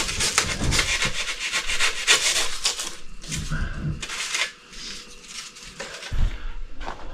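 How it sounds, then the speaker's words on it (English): Insulation supports are fitted between the floor joists of a 185-year-old cabin, producing loud, close rubbing, scraping and knocking of wood and material that continues steadily, with a brief quieter dip midway. "So what I'm putting in there is these insulation supports."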